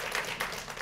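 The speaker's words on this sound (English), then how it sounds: "Give Alice a huge round of applause." A studio audience at a live home-themed show gives a short, faint burst of clapping and applause that lasts under a second.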